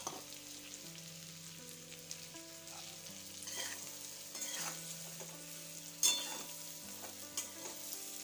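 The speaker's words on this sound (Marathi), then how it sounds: "आणि ह्या आळूच्या वड्या आता व्यवस्थितपणे हलवून घेऊया." Boiled alu vadi pieces (colocasia leaf rolls) being stirred in a hot tempering, a soft sizzle and frying crackle with scraping stirs, faint, under steady background music.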